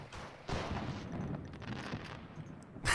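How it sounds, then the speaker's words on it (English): Fireworks going off in the co-op horror game Blood & Bacon, a burst of crackling, booming pops that swells and continues under gameplay noise, loudest at the start and again at the end. "Fireworks. Did you see it?"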